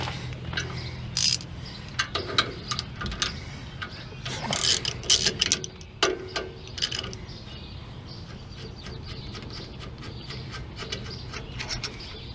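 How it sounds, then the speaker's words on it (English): Ratchet backing out 10mm caliper bolts on the rear brakes of a Ford F150, heard as bursts of quick clicking and metallic ticks close by over a steady low hum, pausing between runs. "I'm going to get this caliper off. To do that, I got to take out these two 10mm bolts."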